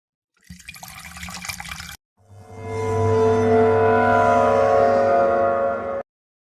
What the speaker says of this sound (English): Find the test tube with iodine in it and pour it into the flask to begin.